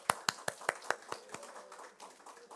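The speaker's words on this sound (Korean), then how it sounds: "우리 첫 번째 생일 축하하면서 우리 박수 한번 줍시다." A congregation at a Sunday church service claps for a child's first birthday: a short burst of sharp, distinct claps close by, quickly thinning out and fading into quiet room tone.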